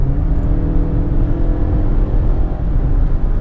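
A 2017 Mazda CX-5 engine revs gently on light throttle, a steady low hum and whir from inside the car, continuous and fairly loud with no talk.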